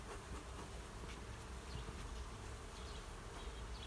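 Honey bees in a hive being opened during a midsummer hive check after smoking, a dense, steady, loud buzzing swarm close by with no talk.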